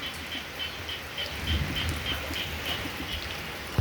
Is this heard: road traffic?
no